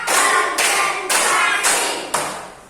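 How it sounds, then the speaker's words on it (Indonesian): A group claps hands together in a counted rhythm during a school positive-culture activity, five sharp, loud claps spaced evenly about half a second apart, with no talking in between. "tepuk satu, tepuk dua, oke, tepuk tiga, tepuk empat"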